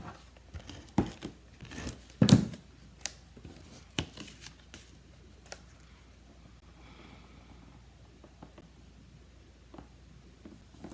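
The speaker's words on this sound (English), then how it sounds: "I can go ahead and add some tape there." Adhesive tape is pulled and pressed onto a handmade flower card, with a few sharp crinkling and tearing bursts up close early on, then quieter scattered taps and rustles.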